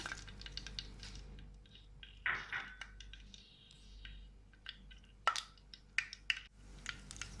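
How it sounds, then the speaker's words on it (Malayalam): Mustard seeds pop in hot oil in a clay pot, giving faint, scattered sharp crackles and clicks over a quiet low background, with a few louder pops spaced irregularly. "കടുക് പൊട്ടിയിട്ടുണ്ട്."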